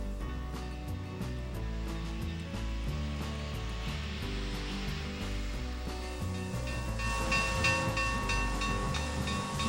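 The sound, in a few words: steam rushing from a Challenger steam locomotive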